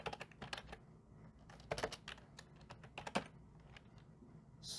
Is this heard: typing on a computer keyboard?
yes